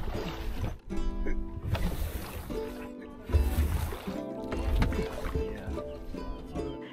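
A boat out on the open sea raises its sail, and a steady rumble of wind and water churns beneath shifting noise, with some faint voices in the background.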